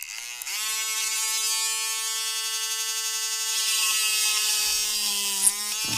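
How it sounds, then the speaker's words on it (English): A tiny hand drill boring holes while making a Nokia 3310 F-bus cable, a steady high-pitched electric whine that runs loud and alone for several seconds and wavers slightly in pitch. "Got tiny drill here"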